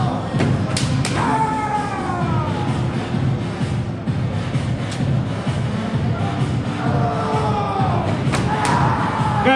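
Bamboo kendo swords crack and thud in quick strikes during a demonstration, including a cut to the torso, with sharp repeated impacts, stamping feet and shouted kiai over a noisy hall crowd.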